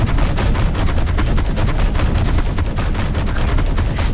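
Ball turret gunfire in the Space Engineers video game, a rapid continuous stream of loud, close shots rattling without a break.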